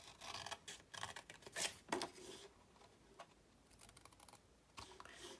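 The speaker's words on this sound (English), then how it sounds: "we're just going to cut this little oblong out" Small scissors snip through paper stock in a series of short, quiet crisp cuts with brief pauses between, close and faint with no voices.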